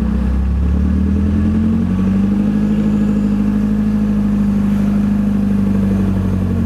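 A 99-year-old Bentley 3 Litre engine revs steadily in first gear on a hill start, a loud, close, continuous low rumble that rises and holds throughout with no talking over it.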